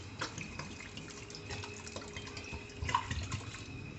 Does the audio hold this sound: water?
yes